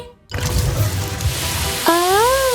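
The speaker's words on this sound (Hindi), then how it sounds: "वो देखिए, पानी बाहर बह रहा है।" Water gushes steadily out of a giant gumball machine in a children's cartoon, a continuous broad rushing wash that fills the clip, with a rising tonal squeal near the end.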